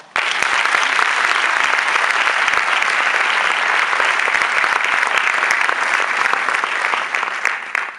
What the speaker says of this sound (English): That is a round of applause.